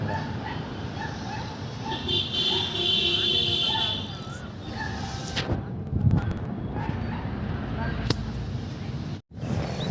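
Dogs barking and yipping with some whimpering, mixed with someone talking over them and a passing car, fairly close, with a brief sharp dropout near the end.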